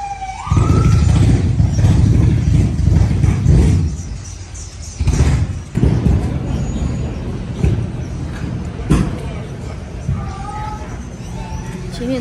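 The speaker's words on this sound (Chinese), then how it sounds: "前面终于来了一辆公交车" A bus pulling up on a snowy New York street during a blizzard, heavy engine rumble and road noise up close that eases off, with a siren-like whine and a voice talking at times.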